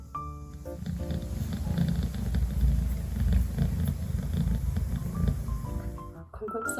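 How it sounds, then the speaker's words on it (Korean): A rescued kitten purrs with a low, steady rumble while being petted on a lap, close and continuous, with faint talk and a few tonal beeps over it. "보은이가 너무너무 기분이 좋아서 쓰다듬어 주니까 골골송을 하고 있네요"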